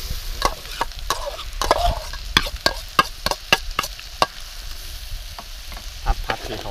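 Chopped garlic and shallots stir-fried in hot oil, with a steady sizzle under repeated sharp clinks and scrapes of a utensil against the pan, close and fairly loud, with no talking.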